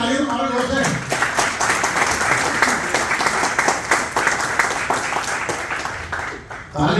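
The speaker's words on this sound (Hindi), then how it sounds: "तालियां मारो जोर से" Crowd applause at a birthday cake-cutting celebration in Indore, dense sustained clapping from many hands that fills the whole stretch, dipping briefly near the end before swelling again.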